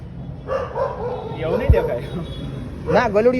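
A puppy yips and whimpers in short, high, wavering cries, partly under a person talking nearby.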